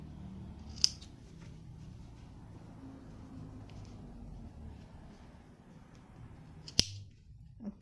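Scissors cut through the elasticated cuff of a pair of tracksuit pants, giving two sharp, close snips several seconds apart over faint room hum, with no speech.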